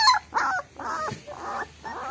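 A puppy whimpers close by in a series of four or five high, drawn-out whines with short breaks between them, loud and with no voices over it.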